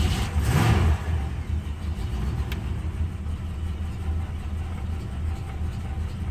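A hard-starting 1991 Jeep Grand Wagoneer engine with a Motorcraft 2100 carburetor, a brief cranking burst that catches and then settles into a rough, steady, close rumble with slight revving variations.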